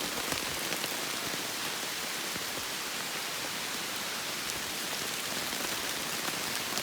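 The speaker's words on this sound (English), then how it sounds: "It's raining hard." Hard rain pours down at dawn at a hiking campsite on a Georgia loop trail. A dense, unbroken roar of drops beats on surfaces for the whole stretch, with no voices.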